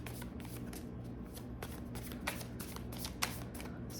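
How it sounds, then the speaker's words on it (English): A deck of playing cards is shuffled by hand close up, giving quiet repeated riffling bursts and soft taps at an uneven rhythm over about four seconds. "shuffle."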